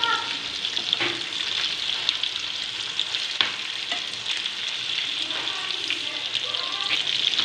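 Fish sizzles and fries steadily in a hot pan for a Tamil fish kulambu, with scattered clinks and scrapes as the pieces are turned over to cook the other side.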